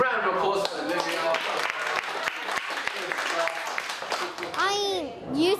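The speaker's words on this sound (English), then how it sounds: "Round of applause for Olivia." Students clap in a round of applause at a youth writing program in Parramatta, a dense steady patter of many hands with children's voices and cheering rising over it, swelling again near the end.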